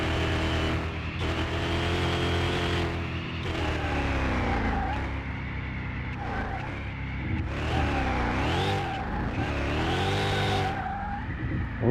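A car in CMS-21 drifting with sustained tire skid and squeal over a steady engine drone, the pitch of the screech rising and sliding as the drift goes on, loud and continuous throughout.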